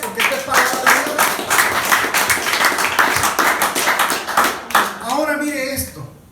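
A church congregation applauds together in a steady wash of clapping that carries through most of the stretch, with voices mixed in and a spoken voice rising near the end.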